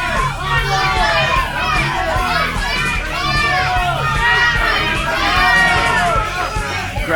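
A wrestling arena crowd at a Texas pro wrestling tag team title match shouts and cheers loudly and continuously while waiting for the winner to be announced, with many voices overlapping.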